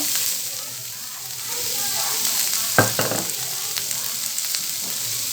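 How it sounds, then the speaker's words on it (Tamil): Steady sizzling of onions and chillies sautéing in a pan, with a brief scrape of stirring partway through. "இதெல்லாம் நல்லா கிளறி கொடுத்து கொஞ்சம் நேரம் வதங்கட்டும்"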